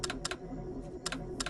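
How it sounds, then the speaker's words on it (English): Computer keyboard typing in short bursts of rapid clicks separated by brief pauses, close and moderately loud over low background noise. "You would just type in the code, like for example,"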